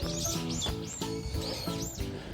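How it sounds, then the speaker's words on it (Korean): Unseen birds in a hilltop park in Changwon, with cherry trees in full bloom, chirp in quick repeated bursts over a steady tonal hum. "이름 모를 새들이 지저귀고 있군요"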